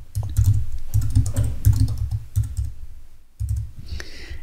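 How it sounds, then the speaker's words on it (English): Rapid bursts of keystrokes on a computer keyboard as a short search phrase is typed, with clustered taps, a brief pause near the end and a faint final click, close and clear with no voices. "You type in a quick phrase that you would use yourself to find this image on the iStock or Getty website."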